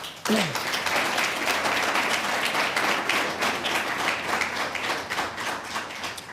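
Applause and clapping at a 2014 mayoral candidate forum held in a restaurant: a dense, loud burst of hand claps from a small crowd, sustained for several seconds with a brief tonal voice sound near the start.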